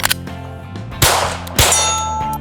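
Bullets striking steel targets: sharp metallic clangs ringing out, two loud hits about half a second apart after a fainter earlier impact, each leaving a sustained ring.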